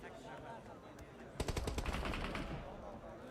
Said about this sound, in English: Butcher trying to stay down in the dirt for now against this bombardment from R8